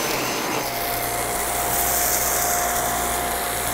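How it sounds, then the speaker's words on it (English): A Boreas handheld mattress vacuum runs with a steady, close motor whine and airflow hiss while picking up heavy birdseed, holding an even level throughout with no talking. "it is so wonderful to have the Boreas handheld mattress vacuum because it also can be used on sofas and couches"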